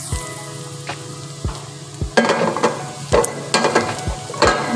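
Onions frying in butter in a pan, a steady sizzle with irregular stirring clacks and scrapes, close and fairly loud, no talking.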